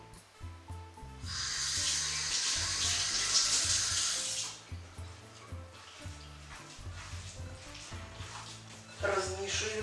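Running tap water splashes over a hand at a kitchen sink during soup-making, a steady hiss of flow lasting a few seconds, with a low voice speaking before and after.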